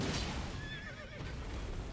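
In the Deep of Night mode of a video game, a horse enemy neighs in a wavering whinny over dense, noisy game sound, with no speech.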